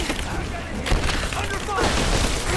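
Rise of the Tomb Raider combat at a Soviet installation, a grenade blast and rapid gunfire overlapping in a dense, loud burst of booms and shots with shouted voices mixed in.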